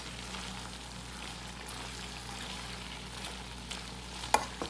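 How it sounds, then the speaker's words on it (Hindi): Vegetables including peas and cabbage are stirred in a frying pan, giving a steady soft sizzle with faint scraping throughout and a couple of sharper clinks near the end; no one speaks. "अब आराम से हम इसको मिक्स करेंगे।"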